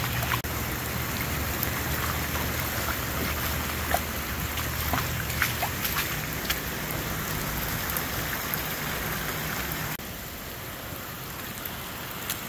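Heavy rain pours steadily over a Central Texas water-retention landscape near a pond, a dense, even hiss of drops with occasional sharper splashes, continuous and loud throughout with no talking.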